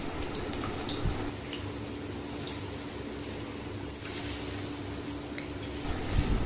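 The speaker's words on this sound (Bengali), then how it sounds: "প্রথমে গরম তেলে আলুগুলোকে দেওয়া হলো" Potatoes frying in hot oil in a pan while making a mixed vegetable dish, giving a steady close sizzle and crackle with scattered pops throughout, no voices.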